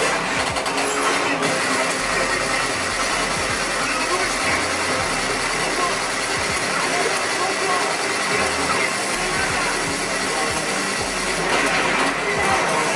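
A vehicle engine in a video game hums and rattles continuously at steady loudness, a dense mechanical drone with faint clicking, while someone talks over it.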